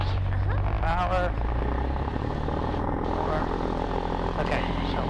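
Cessna 150 engine at takeoff power on a grass runway, a loud, steady propeller drone with rumbling low end heard from inside the cockpit, with voices speaking over it.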